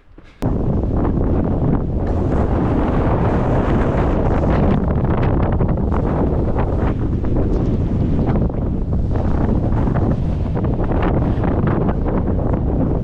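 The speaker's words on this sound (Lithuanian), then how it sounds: "Patys girdit, koks vėjas." Strong wind gusting against the microphone on a climb of Rysy, Poland's highest peak, a loud continuous roar and buffeting that fills the whole stretch with no talk.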